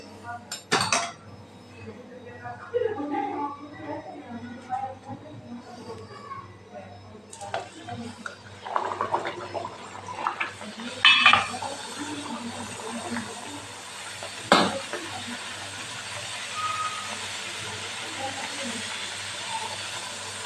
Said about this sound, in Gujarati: હવે આ પૂરીને ઉમેરી અને આપણે તળી લઈશું